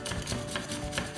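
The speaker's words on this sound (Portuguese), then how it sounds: "Então eu vou pegar aqui, vou passar no ralador" A potato is rubbed against a hand grater in steady, quick scraping strokes, close and moderately loud with no talking.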